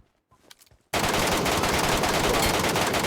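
Loud, continuous automatic gunfire in the mobile battle royale game PUBG Mobile Metro Royale bursts in after a second of faint background sound and keeps hammering without pause to the end.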